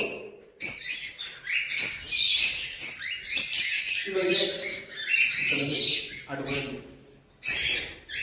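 Many birds chirping and calling together in a home aviary, a dense, busy chorus of high tweets and squawks that rises and falls in agitated bursts, with short gaps between flurries.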